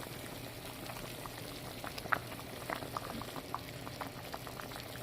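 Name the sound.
turkey wings boiling in pot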